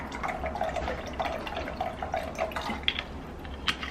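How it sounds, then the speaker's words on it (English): Olive oil being poured into a bowl for a pasta salad dressing, heard as a soft, steady trickling, liquid gurgle close by under a low background hum, with no talk. "So I am going to put in olive oil."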